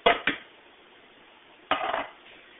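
Canned chickpeas tipped into a bowl while making hummus: two quick clattering drops, then a longer rattling tumble a second later, close and fairly loud with quiet gaps between.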